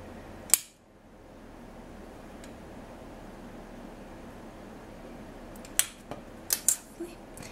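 A blade cutting through a translucent polymer clay cane for a faux dragon vein agate piece, making one sharp click, then a quiet pause and a cluster of several short snappy cuts close to the microphone.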